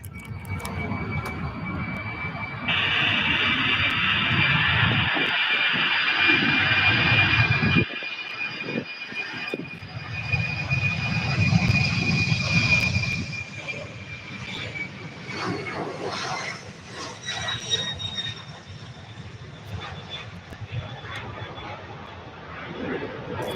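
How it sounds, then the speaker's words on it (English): A UPS Boeing 767-300 departs runway 17 right at Louisville airport, its engine roar building loud and steady with a high whine, then fading into distant rumble as the jet climbs away, with faint voices underneath. "And here's the Boeing 767 departing 17 right this afternoon."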